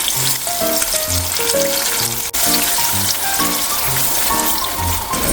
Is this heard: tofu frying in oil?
yes